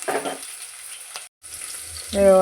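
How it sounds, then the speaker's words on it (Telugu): Onions and green chillies fry in oil with a close, bright sizzle that drops out for a split second, then resumes and swells slightly louder at the end. "రెండు పావుల నూనె ఇక పచ్చిమిర్చి వేసిన ఉల్లిగడ్డ"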